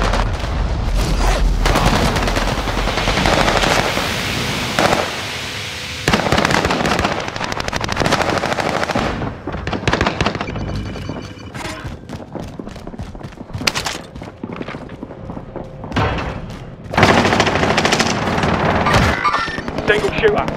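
Gunfire in Call of Duty: Modern Warfare: dense bursts of automatic fire and booming shots, loud and continuous, mixed with game voice callouts and speech.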